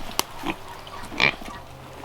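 Pigs on a farm in winter grunt and oink in several short bursts, close and fairly loud, with quiet pauses between the calls.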